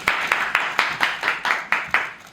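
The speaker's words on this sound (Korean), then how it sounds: "박수!" A theatre audience claps in unison at a curtain call, about nine sharp, evenly spaced rhythmic claps, moderately loud and clear with no other sound over them.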